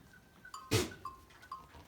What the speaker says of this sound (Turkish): Burada kara da var. Kara keçi.